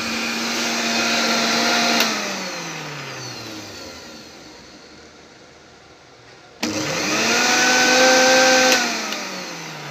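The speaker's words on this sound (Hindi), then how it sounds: "तो यहाँ से हमारी ये वॉशिंग मशीन घूम रही है, ये देख लें।" A washing machine powered by a solar panel system spins up with a rising motor whine, winds down to near silence, then abruptly starts again with a rising hum, close and steady.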